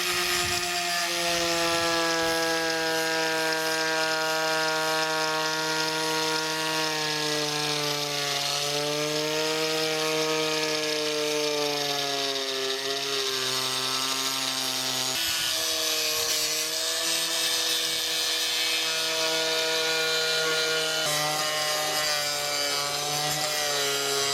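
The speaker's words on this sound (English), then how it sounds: "I've cut through the first layer of aluminum." Power tool cutting through the aluminum wall of a 6x12 cargo trailer, a loud, continuous grinding whine with a strong droning pitch that sags and recovers as the blade loads, steady and close for over twenty seconds.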